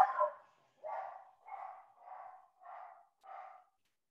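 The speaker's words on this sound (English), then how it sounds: "the dog," A dog barks six times in a steady, evenly spaced series, each bark short and gruff, heard clearly indoors against silence with no talking.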